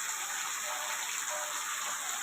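Heavy rain pours steadily and loudly, a dense broadband hiss of water drumming on surfaces and running in the street, constant throughout with no talk.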